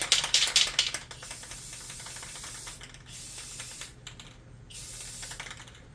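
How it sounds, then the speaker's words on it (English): Clear coat spray bursts onto a painted tabletop miniature: a loud hissing spray at the start, then shorter aerosol bursts separated by brief gaps, close up. "but we're going to hit a clear coat"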